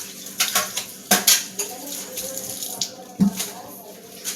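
A mixing bowl being washed out at a kitchen sink while baking chocolate chip, walnut and date cookies: clinks of dishes and cutlery over trickling tap water, with several sharp knocks and rattles close by.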